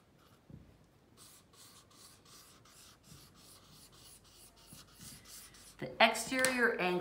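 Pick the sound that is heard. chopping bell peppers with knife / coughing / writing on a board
writing on a board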